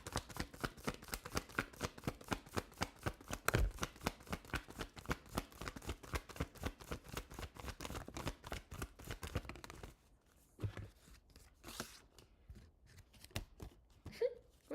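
Tarot cards are shuffled in quick repeated riffles, a dense rhythmic crackle of card edges close to the mic that stops near the end, leaving a few softer sporadic card handling sounds.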